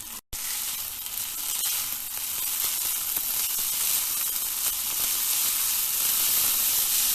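Boiled noodles seasoned with salt and light soy sauce sizzle and fry steadily in a hot pan, a continuous close hiss with faint stirring, after a brief gap at the start.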